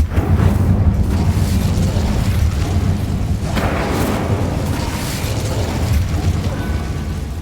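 A fire spell explodes in the video game Hogwarts Legacy, a loud continuous roaring burst with low rumbling booms and crackling mechanical rattles running the whole time.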